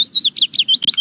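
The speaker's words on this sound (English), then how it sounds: "This is the call of the willow warbler." Willow warbler calling: a close, clear series of short, high, slurred whistled notes, each falling away, repeated in quick succession with brief gaps.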